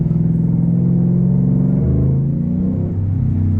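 A truck engine revs loudly nearby, a deep steady rumble that dips slightly in pitch as the revs fall, heard alone with no talk over it.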